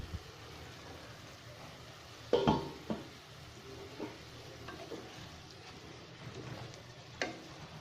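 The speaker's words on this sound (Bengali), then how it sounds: "ঢাকনা তুলে আমি একটু নেড়ে দিচ্ছি।" Mutton kosha cooking without water in a covered pot, a quiet low sizzle with occasional stirring scrapes and one louder clatter as the meat is turned, no talk.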